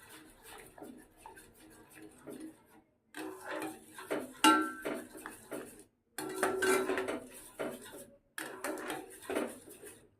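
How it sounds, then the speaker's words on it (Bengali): Garlic is stirred in a pan with a metal utensil, giving bursts of clinking and scraping against the cookware, separated by short pauses, close and moderately loud. "রসুনটা দিয়ে এবারে ভালো করে মেশাতে থাকবো"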